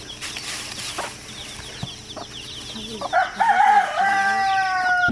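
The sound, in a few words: chickens and little chicks in Bohol, Philippines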